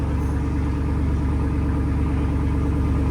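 A 2024 RAM 2500 with a 6.4L HEMI V8 and Borla ATAK exhaust idles just after startup, a steady, deep, loud rumble with an even low pulse throughout and no voices.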